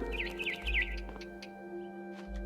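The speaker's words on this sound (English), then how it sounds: "Then I heard chirping" A barn swallow chirps in quick, twittering bursts in What Remains of Edith Finch, faint over a steady low game hum and a few clicks.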